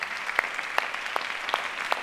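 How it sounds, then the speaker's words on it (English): A small audience at a medical conference's closing awards ceremony claps for an award winner, giving a light, scattered round of applause with distinct individual claps and no voices. "so the applause for the winner"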